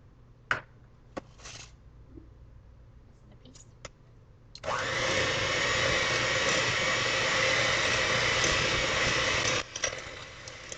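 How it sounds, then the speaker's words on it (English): A handheld electric mixer whirs loudly and steadily for about five seconds as it beats an egg into cookie dough for iced pineapple cookies, preceded and followed by a few light clicks and taps. "we're going to mix that in with our hand mixer"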